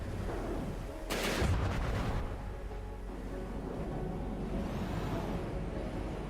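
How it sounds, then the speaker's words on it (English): Missiles launch in the From the Depths naval combat game: a sharp loud burst of firing followed by a rushing whoosh that trails off into a steady engine-like drone. "Missiles popping in here."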